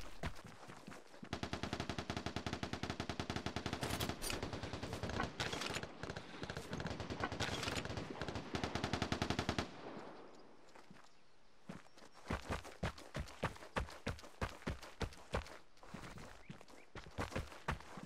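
Sustained rapid gunfire in a shooting video game, a long dense automatic burst followed by a quieter stretch of distinct spaced shots or steps ticking out rhythmically, all at moderate distance.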